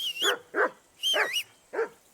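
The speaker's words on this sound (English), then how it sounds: "That barking was a pain in the ass." In Kingdom Come: Deliverance II, the dog Mutt lets out four quick, close barks. Two of them carry a high, wavering whine on top, as if the dog is yelping.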